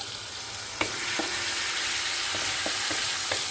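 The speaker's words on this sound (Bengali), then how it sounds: "লঙ্কা আর নুনটাও দেবো, দিয়ে নাড়বো ভালো করে।" Prawns with chilli and salt are stirred in a frying pan, giving a soft, steady sizzle broken by a few light utensil taps against the pan.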